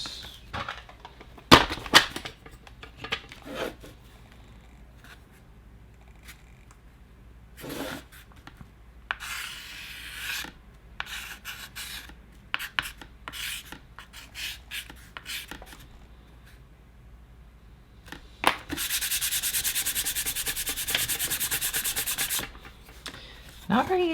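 An eraser rubs at writing on a clipboard in short, scratchy bursts separated by quiet pauses, ending with a longer sustained stretch of scrubbing, all close to the listener.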